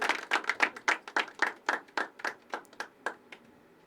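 Scattered hand clapping at a poetry open mic as the next performer is called up, a dozen or so distinct claps at an uneven pace that thin out and stop near the end.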